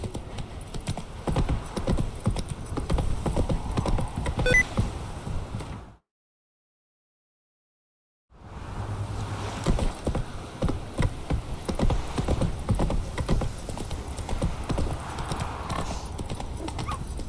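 Roach the horse trots in The Witcher 3: Wild Hunt, hooves clopping in a steady, continuous rhythm under ambient game sound. The clopping breaks off for about two seconds of total silence and then resumes.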